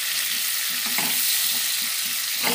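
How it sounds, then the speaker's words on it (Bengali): Whole small new potatoes with salt and turmeric fry over a low flame, producing a loud, continuous dense sizzle. Several dull stirring strokes sound beneath it, and no one speaks. "আলুটা গ্যাসের ফ্লেমটা কমিয়ে আস্তে আস্তে করে ভাজতে হবে"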